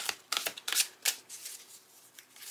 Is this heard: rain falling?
no